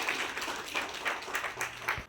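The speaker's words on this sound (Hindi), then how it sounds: "कृपया तालियों के बीच जोर से स्वागत करें मैम का।" Applause welcomes the vice chancellor at a university convocation ceremony in Indore, India. It comes as faint, distant clapping in a large hall, with uneven bursts and no voices over it.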